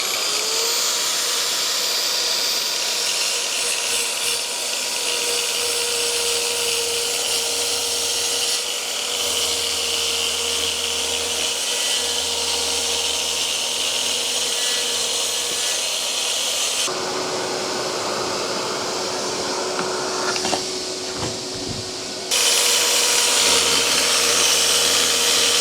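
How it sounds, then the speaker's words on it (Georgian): A Crown track saw riding a rail while cutting, with a Crown dust vacuum attached, giving a loud steady whirring roar that shifts pitch and drops off briefly near the end before resuming, with no talk. "ეს ქროუნის პილასოსი არის"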